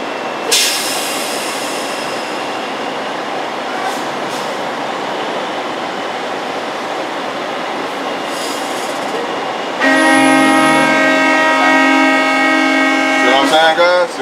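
A train rumbles past a rail yard with a continuous rolling roar, then a loud sustained horn blares near the end before cutting off.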